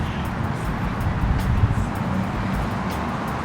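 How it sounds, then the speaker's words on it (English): Road traffic outside, a steady wash of passing cars with a low rumble, moderately loud and continuous through a short stretch. "it's a little loud from the traffic"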